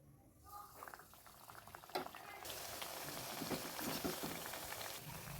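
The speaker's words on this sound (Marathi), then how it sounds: "आपण हे आता तळून घेऊ." Small millet and sesame tikkis are lowered into hot oil for deep-frying. The oil is quiet at first, then a dense, bubbling sizzle rises and holds steadily at a moderate level, with no voices.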